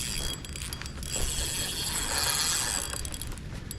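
A fishing reel's drag clicks rapidly as a catfish pulls line in cold rain, a dense continuous ratcheting buzz over steady background noise, with no talk.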